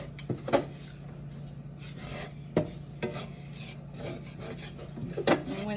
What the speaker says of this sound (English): scrape the bottom of the pan so you get the flour up off the bottom and onto the sausage